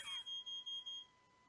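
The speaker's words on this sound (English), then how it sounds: "We got a fire alarm going on in my studio." A studio fire alarm sounds in five quick, shrill electronic beeps, fairly close and evenly spaced. A fainter steady tone continues after the beeping stops.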